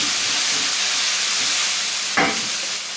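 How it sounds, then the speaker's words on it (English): Smoked mackerel crisps on a hot pan with a steady, loud broad sizzle throughout, a sharper crackling burst flaring up briefly near the end, with no speech. "we're going to pop our fish on the hot pan just to crisp the bottom"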